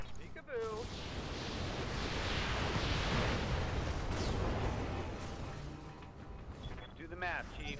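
Heavy mech weapons fire in the RogueTech BattleTech video game as a sustained roaring barrage of explosions and rumbling impacts, with short synthetic radio-like voice blips at the start and end.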